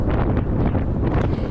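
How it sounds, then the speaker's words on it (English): Strong wind buffeting the microphone during a bike ride, a steady, dense roar with gusty surges and no talking. "Today, it's windy."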